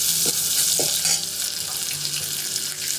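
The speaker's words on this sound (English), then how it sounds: "So you fry this for a minute or 2, not more" Crushed garlic frying in a pan for Vidarbha maaswadi at a dhaba, a loud, steady sizzle with a few stirring knocks, alone.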